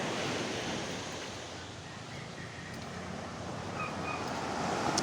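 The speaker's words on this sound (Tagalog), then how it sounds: "Lalaki ng alon ngayon dito sa amin, sa Cavite." Large sea waves break along the Cavite coast, a broad continuous surf roar mixed with wind buffeting the microphone, with no talking.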